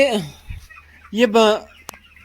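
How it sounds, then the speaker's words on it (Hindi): Sonali chickens cluck close by in a few short, loud bursts separated by brief pauses. "ये सोनाली मुर्गियाँ होती हैं"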